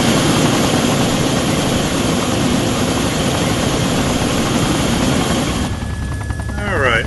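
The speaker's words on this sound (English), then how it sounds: "Might get a little loud here when I switch to the internal view because of the rotors" Helicopter rotors and engine from a flight simulator game drone loudly and steadily, with a thick, constant low roar throughout and brief tonal warbling near the end.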